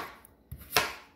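A knife chops cucumber into small pieces on a board in a kitchen, three quick dull cuts, close and sharp, with no talking.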